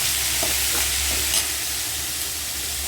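Boiled cluster beans fry in a pan with a constant close sizzling hiss, with a few soft stirring clinks along the way.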